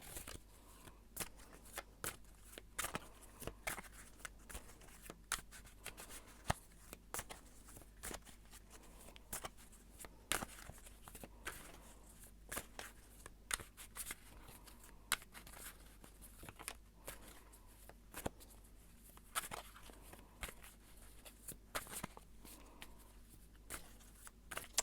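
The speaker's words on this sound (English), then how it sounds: "I'm actually going to shuffle some of these archetype cards just to get a little bit more information" Tarot and archetype cards are shuffled by hand close to the microphone, a long run of soft, irregular flicks and papery riffles with scattered sharper snaps over a quiet room background.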